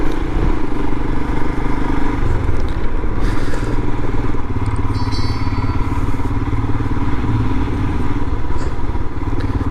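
Royal Enfield Himalayan motorcycle ridden off road through the Mennock Pass, its steady engine drone loud and close, with occasional clatter and thumps from the rough track.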